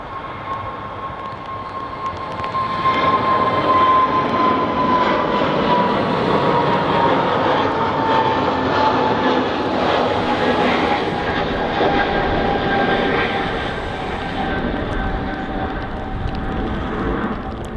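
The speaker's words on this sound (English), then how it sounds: "EasyJet's A320neo on the departure now." An EasyJet Airbus A320neo departing Manchester Airport, its jet engines building to a loud, sustained roar with a whining tone that holds steady for many seconds, heard from the ground with a faint voice underneath.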